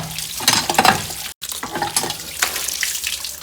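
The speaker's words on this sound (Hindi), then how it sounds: "पहले मैं पानी में भिगोऊंगा।" Clothes are soaked in water, with splashing and sloshing noises in uneven bursts close by, broken by a brief silent gap.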